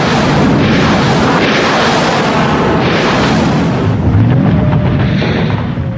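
Heavy artillery explosions from a World War II battle rumble continuously, loud, dense booms and blasts overlapping in a sustained barrage with no pauses.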